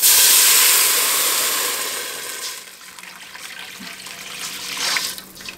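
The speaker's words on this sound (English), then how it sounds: "I'm going to go ahead and add some water." Water runs and splashes steadily, loud at first, then settles into a quieter trickle with a few brief surges near the end.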